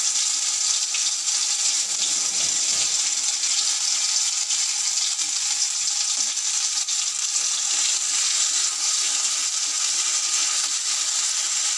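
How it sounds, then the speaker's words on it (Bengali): Dry red chilli, nigella seeds and cumin paste fry in hot oil as a tempering for a hilsa fish curry with eggplant, giving a steady, loud, even sizzle and crackle that fills the whole stretch without pause. "ফোড়নের চোটে একটা শুকনো লঙ্কা, একটু কালো জিরে আর একটু জিরে বাটা দিয়ে দিলাম।"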